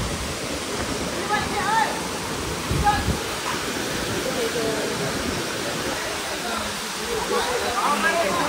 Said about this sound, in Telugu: విభూది వాటర్ ఫాల్స్కి అయితే వచ్చేసాం. సౌండ్ వినిపిస్తుందా?